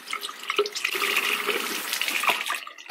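Hot water runs steadily from a tap into a sink, a close, continuous splashing stream with small drips and gurgles, no voices.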